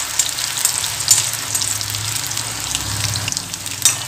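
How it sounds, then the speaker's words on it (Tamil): Potatoes sizzle steadily while frying in hot oil in a pan, a continuous close crackle and hiss with a few sharper pops and light stirring noises, no voices. "இப்போ நம்ம சேர்த்துருந்த ஆயிலில் பொட்டேட்டோ நல்லா ஃப்ரை ஆகட்டுங்க"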